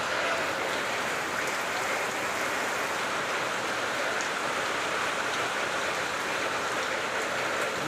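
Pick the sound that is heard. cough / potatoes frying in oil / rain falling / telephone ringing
rain falling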